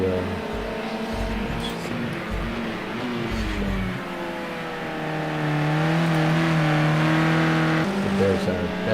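A race car, apparently the Air Bubbles car, works through a chicane at Indianapolis, its engine note rising and falling as it brakes and accelerates, steady and fairly close with a faint voice underneath.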